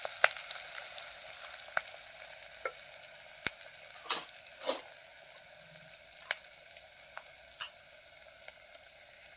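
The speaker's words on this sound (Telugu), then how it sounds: "పచ్చిమిరపకాయలు, ఉల్లిగడ్డ, మెంతి మంచిగా గోలింది." Green chilies, onion and fenugreek leaves fry in oil with a steady high sizzle, broken by scattered sharp pops and the occasional scrape of stirring, close by and with no voices.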